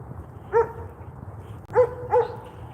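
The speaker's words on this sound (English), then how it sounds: "These dogs look like they might get loose." Dogs barking during a walk outdoors, three short barks at moderate distance, a single one followed by a pair, over faint background noise.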